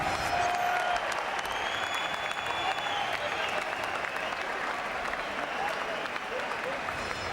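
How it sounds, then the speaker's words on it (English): A boxing crowd applauds after a WBO World Light Heavyweight Championship bout in Wales: sustained, even clapping from a large arena audience, with faint voices and whistles mixed in underneath. "Ladies and gentlemen, a round of applause"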